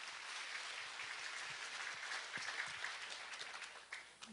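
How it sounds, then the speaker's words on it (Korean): An audience at the 2017 Daegu citizens' roundtable meeting applauds in a steady, fairly soft and distant wash of clapping that carries on evenly without voices. "여러분 박수해 주십시오"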